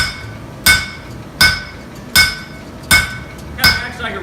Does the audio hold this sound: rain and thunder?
no